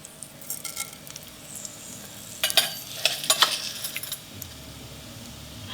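A teaspoon of mustard seeds crackles in hot oil in a non-stick pan, faint at first, then a quick flurry of sharp pops and spits, all fairly quiet and close.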